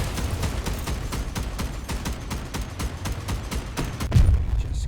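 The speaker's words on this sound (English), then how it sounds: "See now, those cannon shots." Cannon shots in a video game sound as a rapid, regular series of sharp bangs over a rumbling battle backdrop, with a heavier boom near the end.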